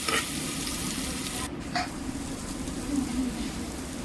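Sprouted moth beans with onion and tomato sautéing in a pan give a steady low sizzle throughout, with a few faint scrapes of stirring and no speech.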